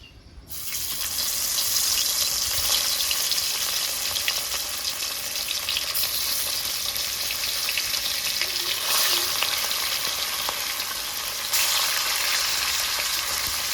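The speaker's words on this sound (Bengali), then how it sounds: "এবার মাছটা ভেজে নেব।" Fish seasoned with salt and turmeric fries in hot oil in a wok, a loud dense continuous sizzle that surges right after the fish goes in and stays steady throughout without speech.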